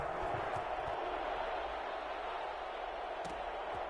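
Stadium crowd noise in a Madden NFL game before a New England Patriots versus New Orleans Saints matchup, a steady broad roar of fans that holds constant throughout with no clear peaks or bursts of cheering.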